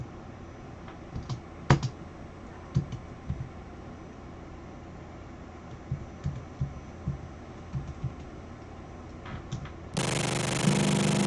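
Buttons and keys being pressed while playing MASK on a Commodore 64, with scattered sharp clicks at an irregular rhythm over a low hum, and a burst of loud broadband noise at the very end.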